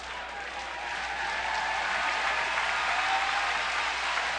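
Steady applause from a stadium crowd at a 2004 Vanderbilt vs Texas college baseball game, honoring Vanderbilt pitcher Jeremy Sowers, dense and sustained clapping at even loudness throughout without voices.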